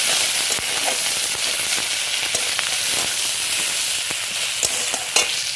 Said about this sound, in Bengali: এবার ভালো করে এটাকে কষিয়ে নিয়ে দেবো